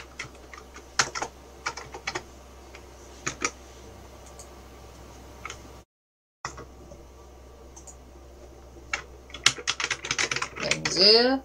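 Keys clacking on a computer keyboard as a name is typed into a Tinkercad 3D design window, irregular bursts of clicks with a short silent gap, ending in a quick flurry of taps and a bright squeak.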